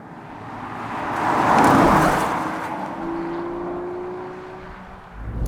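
The BAE Vantare, a 450 hp reworked Aston Martin DB5 with a ZF 6-speed gearbox, is being driven: a steady engine drone with road rumble swells and eases, then settles into a sustained tone.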